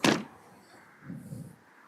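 The door of a 1933 Ford Vicky street rod with a 350 V8 swings shut in one sharp, close slam, followed by a softer thud and faint rattle.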